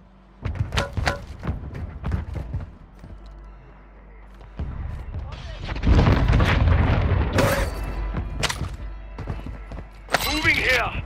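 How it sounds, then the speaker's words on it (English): Friendly mortar strike shells exploding in the video game Call of Duty Warzone 2, several heavy booms and thuds arriving in clusters amid other battle noise, with brief voice chatter between impacts. "Friendly mortar strike inbound."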